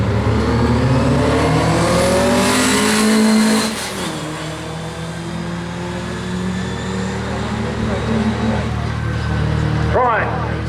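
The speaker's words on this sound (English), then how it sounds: "This is Kevin in his Volvo Amazon" A 1978-owned Volvo Amazon, once a main dealer demonstrator, runs at the Brighton Speed Trials sprint event, its engine droning steadily and shifting pitch as it drives off, with a commentator talking over it.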